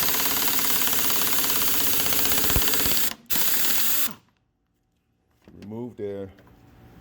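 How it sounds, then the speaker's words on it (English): A pneumatic impact gun with a 22 mm socket hammers loose the strut nut on a 2002 Volkswagen Cabrio, a loud, close rattling burst of several seconds, followed after a short silence by someone speaking. "with a 22 millimeter socket, impact gun,"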